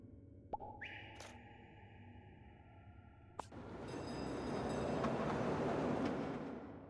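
Roma Termini train station ambience in The Fabulous Fear Machine, opening with soft electronic chime tones over a low hum, then swelling into a broad rumbling wash of station and train noise that fills the space.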